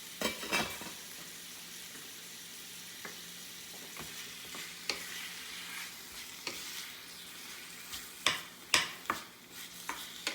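Ramen noodles stirred in a pot while keeping them submerged, soft sloshing with scattered clinks of utensil against metal that grow louder and more frequent toward the end, over a faint low sizzle.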